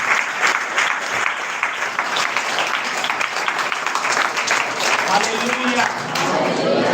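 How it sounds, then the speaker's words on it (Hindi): A congregation at a Sunday prayer meeting led by a pastor claps steadily for several seconds, the crowd clapping mixed with a voice speaking over it. "एक बार ताली बजाइए परमेश्वर।"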